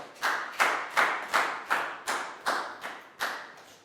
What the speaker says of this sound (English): High five and a big round of applause for Prow